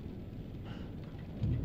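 Thunder rumbles through steady rain in the horror video game Man of Medan, a continuous low roar with a louder rumble building near the end.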